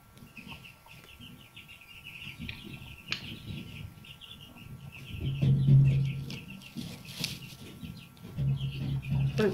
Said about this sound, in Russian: Здесь у меня в этой комнате находятся цыплята в брудере. Так что будет дополнительное озвучивание.